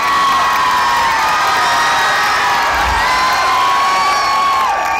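A huge crowd at a PTI political rally for Imran Khan in Iqbal Cricket Stadium, Faisalabad, roars and cheers loudly and continuously, with ringing, tonal shouts and whistles blending into one sustained wall of sound.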